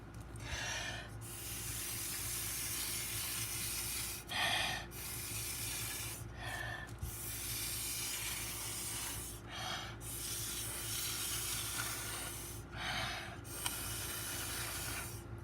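Air is blown through a straw onto resin artwork in five short, breathy hissing puffs spaced a few seconds apart, close up, with a low steady hum between them.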